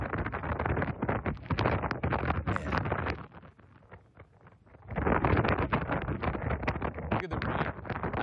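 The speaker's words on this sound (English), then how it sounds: "You can hear the wind whipping around these people" Strong hurricane wind gusting across Norfolk Beach, a loud continuous roar buffeting the microphone, easing briefly midway before surging back at full force.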